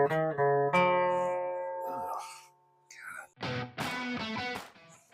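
An acoustic guitar with poor intonation played close up: several plucked notes and a strummed chord ring out with slightly clashing, out-of-tune pitches. Brief breathy noises come between, then a fuller strum near the end.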